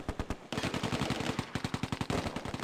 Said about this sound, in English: Under heavy fire. Take cover!